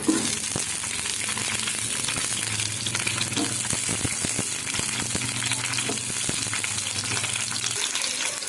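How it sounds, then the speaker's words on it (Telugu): Green chilies fry in a small amount of oil in a pan, making a continuous sizzle with frequent sharp crackles and pops, close and moderately loud, with no talking. "పచ్చిమిర్చి ఇలా చిటుకులు వస్తూ ఉంటుందండి"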